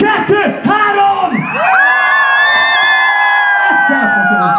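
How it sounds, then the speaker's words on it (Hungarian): A large festival crowd at CokeClub in Siófok screams with hands raised. An announcer's voice counts in first, then a long, loud, sustained cheer and whoop from many people swells and holds for several seconds. "Egy hatalmas sikolyt kérek háromra felemelt kezekkel!"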